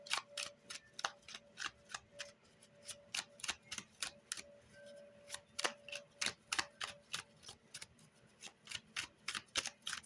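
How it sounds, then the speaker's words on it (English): A deck of tarot cards is shuffled repeatedly, with rapid crisp riffling clicks and snaps in a steady, close, fairly quiet rhythm, and no one speaking. "Okay, 3 more shuffles and nothing comes out."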